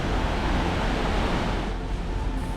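Potem Falls, where Potem Creek drops 70 feet through lush green woodland, gives off a steady, broad roar of falling water that holds constant and fairly loud throughout.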